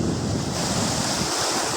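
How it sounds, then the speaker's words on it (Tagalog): Steady rush of ocean surf washing against a rocky shore, with constant wind noise buffeting the microphone throughout. "Hindi naman kalakihan yung alon."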